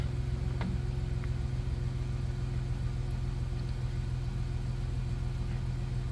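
A 1990 Dodge Grand Caravan engine idles steadily at close range, a continuous low rumble with a faint click or two near the start and no talking.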